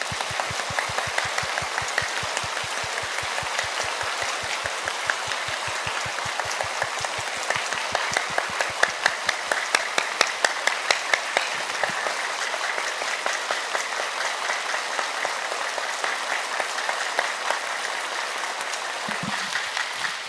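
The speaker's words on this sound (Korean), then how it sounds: "장자 박수 합시다" A church congregation at a youth worship service claps in rhythm, loud and steady, with sharp regular claps that shift into a dense wash of applause and carry on for about twenty seconds without talk.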